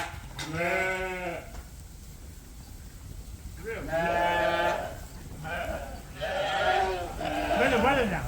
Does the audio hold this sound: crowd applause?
no